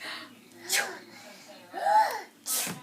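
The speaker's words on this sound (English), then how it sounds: "Are you sneezing?" A child's sharp sneeze bursts out between short vocal sounds, with another abrupt breathy burst at the end, close and fairly loud.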